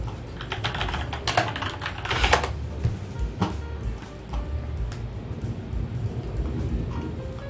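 Computer keyboard typing to search online for PC parts, a steady run of close, loud key clicks with brief pauses, no talking.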